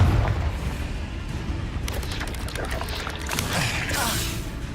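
A Confringo blast curse goes off in the Hogwarts Legacy video game. The explosion is loud and booming and rumbles steadily, with crackling bursts and blasts layered over it throughout.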